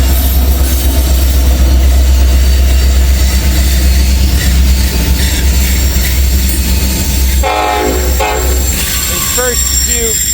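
A long manifest freight train of boxcars and covered hoppers loaded with potash rolls past close by, a steady loud rumble with wheel squeal and clanking couplers building near the end.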